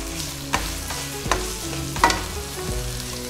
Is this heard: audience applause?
no